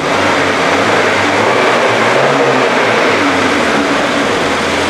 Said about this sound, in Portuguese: deixa eu dar uma aceleradinha para ver se acorda ela